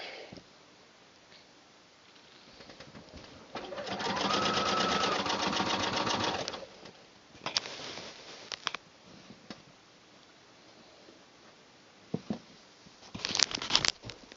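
Sewing machine stitching binding onto a layered quilt: a quiet steady whir of needle strokes lasting a couple of seconds, then brief bursts of stitching with soft handling and rustling of fabric between runs.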